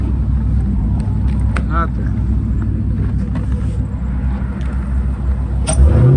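Hellcat car with an intake and a catch can, driven through a blizzard in cold weather: a loud, steady low exhaust roar drones throughout, with a surge at the end.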